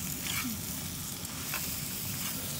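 Onion added to chicken meat frying in a pan at night, a loud, continuous close sizzle with no voices.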